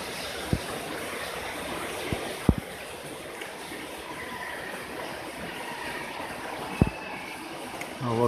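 Running water flows steadily through 8-litre Weiss incubation jars holding carp eggs at a hatchery, a constant broadband rush with a few faint knocks and clicks, no talk.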